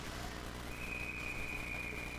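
A referee's whistle at a minor-league ice hockey game between the Amarillo Wranglers and Oklahoma Warriors: one long, steady, piercing blast, fairly clear over the arena's constant crowd hum.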